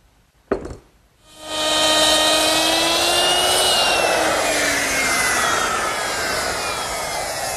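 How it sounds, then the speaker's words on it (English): A woodworking router with a 3/8 inch rabbeting bit cuts a rabbet along the inside of a wooden door frame for a pie safe, a sharp click then a loud, sustained high whine with shifting tones as the bit bites through the wood. "This rabbet that I'm making on the inside of the door frames is to receive the tin panel. And I'm making it using a 3/8 inch rabbiting bit in my router."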